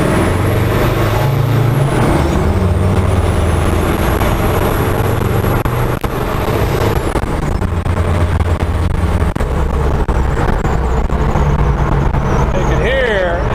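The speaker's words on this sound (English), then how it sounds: "Just hearing the turbo spool" A Holset HX30 turbocharger spools on a Jeep CJ7 running an OM617 turbo diesel, a high rising and falling whistle riding over a loud, constant engine drone and road rumble while the vehicle drives.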